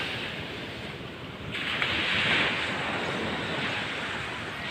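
Ocean waves wash in a continuous rushing roar, with wind buffeting the microphone and a swell of surf rising midway.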